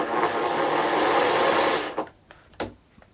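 An old brushed Makita jigsaw without speed control runs under finger-trigger control. A loud, buzzing reciprocating whir lasts about two seconds, then cuts off, leaving a few brief clicks and knocks.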